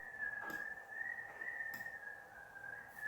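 A thin, shrill whistle holds a piercing high note, wavering slightly, with a few soft breathy puffs breaking in; faint and alone.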